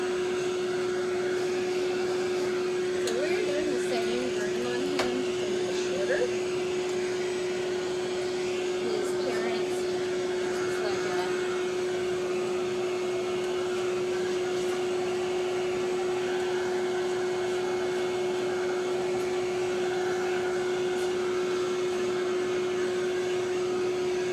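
A blow dryer runs steadily on a puppy being groomed, with a loud, constant whirring hum that fills the whole stretch, with faint shuffling beneath it.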